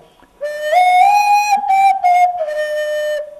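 A shrill whistle of raw, still-wet clay blown in a few bursts: one long rising note, two short toots, then another held tone, close and loud.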